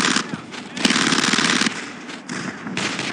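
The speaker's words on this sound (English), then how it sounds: "That machine gun's opening up." Machine gun fire in the World War II shooter Brothers in Arms: Road to Hill 30, loud rapid bursts in several long strings with short gaps, close and dominant.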